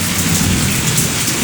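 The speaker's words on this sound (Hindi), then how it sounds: "देख सकते हैं कितना बारिश हो रहा है यार।" Heavy July downpour in Bhilai, Chhattisgarh, a steady loud hiss of rain hammering surfaces with low rumbling underneath, continuous throughout with no voices.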